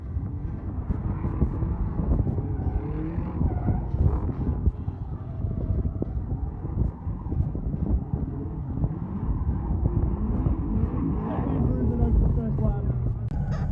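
A Torque Drift Subaru BRZ drift car on a drift run at Vic Drift Round 1: a loud, sustained engine roar whose revs sweep up and down throughout, mixed with heavy wind buffeting.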